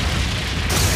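In Trails of Cold Steel 3, the Brionac weapon fires with a dense, booming explosion that fills the whole brief moment, loud and close with a sustained rumbling roar.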